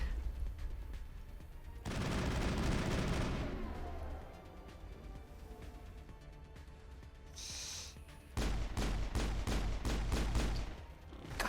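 Rapid bursts of gunfire and explosive grenade blasts in the sci-fi shooter Mass Effect, played on Insanity difficulty, loud and dense in two heavy stretches with a quieter lull of scattered shots between.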